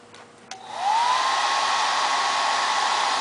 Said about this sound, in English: I'm going to have you turn on the blow dryer and we're going to watch what the ping pong ball does.